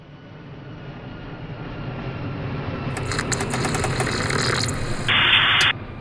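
An airplane flying in to land as a sound effect: a steady engine roar that swells gradually, with a brief bright tone near the end and no voices.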